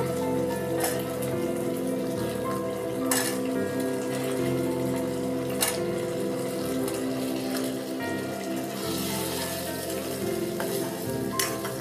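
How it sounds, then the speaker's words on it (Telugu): Onions and sweet potato pieces fry in hot oil over a high flame, a steady close sizzle and crackle with occasional sharper pops and stirring sounds throughout. "ఇప్పుడు ఈ ఉల్లిపాయల్లో చిలకడ దుంప ముక్కలు వేసేసుకుంటున్నాను."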